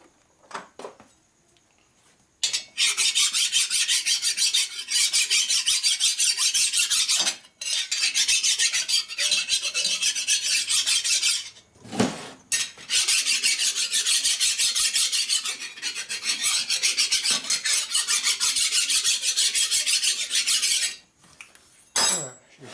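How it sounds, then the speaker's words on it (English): Hand file rasping across the gasket surface of a 1981 Harley-Davidson Sportster XLCH 1000cc ironhead cylinder head, harsh scraping strokes in long continuous runs broken by brief pauses, close and loud. "First thing I do is deburr the gasket surface."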